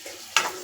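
Coconut milk poured into a sizzling potato curry gives one short, sharp hiss and crackle that flares up suddenly and then settles into a low simmer.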